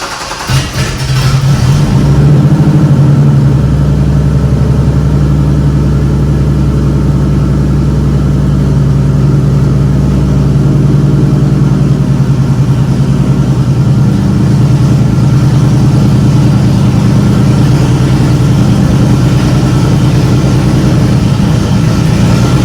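A loud race car engine cranks and catches, then settles into a heavy, rumbling idle that drones on steadily and close by.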